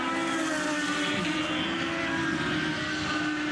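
An IndyCar race car powers through a turn at the Edmonton street circuit during qualifying, a loud sustained engine whine steady throughout with no voices.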